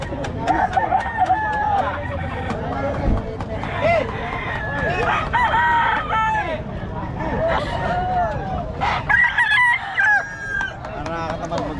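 Roosters for sale crow repeatedly and chickens cluck at close range, loud and overlapping, amid a busy hubbub of people talking in the background.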